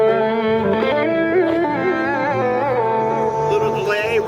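An electric guitar played through an AC30 amp model on an Orange OPC computer combo rings out a melodic phrase of sustained, slightly bent notes, full and clear with delay and reverb.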